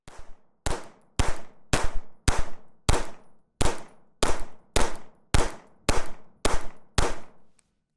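Twelve evenly spaced shots from a Gen 6 Glock 19 pistol fired at a steady, brisk pace, each a loud crack followed by a short echoing tail, with no voices.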